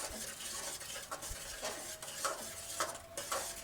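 Eggs cooking in oil in a pan are stirred briskly, with a steady sizzle and repeated scraping strokes of a utensil against the pan, close and fairly loud, with no voices.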